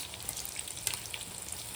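Cinnamon sticks and cloves frying in hot oil in a pan, a faint, steady crackle and sizzle with scattered small pops, heard alone without voices.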